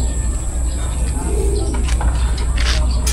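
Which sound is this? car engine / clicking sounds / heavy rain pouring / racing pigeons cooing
racing pigeons cooing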